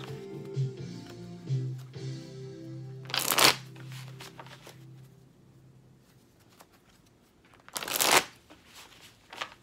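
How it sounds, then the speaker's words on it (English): A deck of tarot cards is shuffled in two quick riffling bursts, close and crisp, separated by quieter handling sounds and light background noise. "Shuffling the deck for my Cappies."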